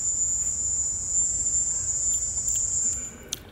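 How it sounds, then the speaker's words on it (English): A recorded high-pitched whine holds steady and alone for about three seconds, thin and piercing over faint background hiss, then cuts off and is followed by a brief click. "Did anyone not hear that? High-pitched whine?"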